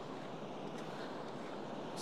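Ocean surf on the beach at Kuantan at sunrise, a steady broadband wash of waves with light wind noise, fairly faint and continuous with no talk.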